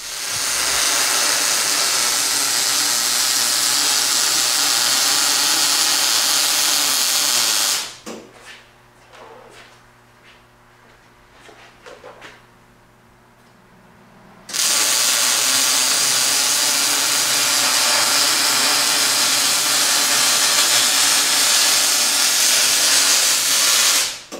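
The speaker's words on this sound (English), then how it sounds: "So now I'm going to head on over and we're going to start welding." Welding on an LED street light conversion, heard as two long stretches of loud, steady crackling hiss separated by a quieter gap of several seconds.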